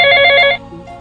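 A mobile phone rings loudly and close by with a bright electronic tone that lasts about half a second and then cuts off, leaving quiet room sound.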